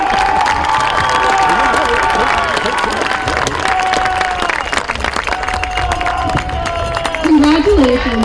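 A crowd at a high school football game, Norwayne at Hillsdale, applauds and cheers the senior athletes and marching band, with sustained loud clapping, scattered shouts and whistles, and voices mixed in.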